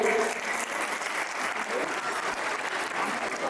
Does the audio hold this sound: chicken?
no